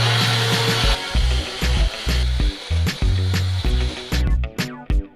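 A blender pulsing peppers and water for homemade pepper sauce, with repeated short bursts of loud motor whir separated by brief pauses, ending in quicker choppy pulses.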